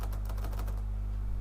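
Quick run of computer keyboard keystrokes over a steady low electrical hum, the light clicking tapping close for under a second and then stopping while the hum carries on.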